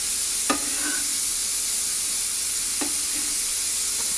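Beef cooking in a pot on a gas stove gives off a steady frying sizzle, with a spoon or ladle scraping and stirring against the pot twice. No one speaks.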